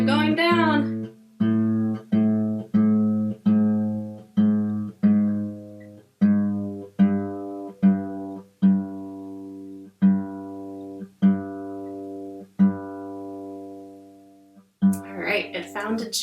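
A single guitar string is plucked repeatedly, about a dozen times, each note ringing then fading as the pitch slides steadily lower while it is tuned down to G.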